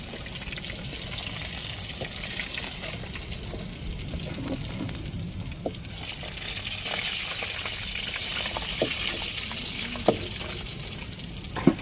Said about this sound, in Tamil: இப்போ மீனை பொரிச்சாச்சு. இப்படி பொரிக்கணுங்க.